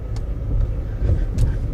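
A 2023 Chevy Colorado Trail Boss pickup driving at speed, a steady low road and engine rumble with faint rattles, heard from inside the cab with no talk.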